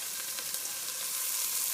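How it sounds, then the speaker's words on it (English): Frozen peas sizzle in a hot pan for peas pulao, a brief soft hiss of frying with light stirring, quiet and steady with no voices. "start stirring it nicely, because you want the peas to get a bit roasty and not just be boring boiled"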